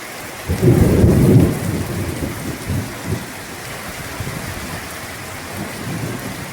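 A deep, loud rumble of thunder rolls in early, then fades into steady heavy rain drumming nearby in a village, with a few softer low rumbles after.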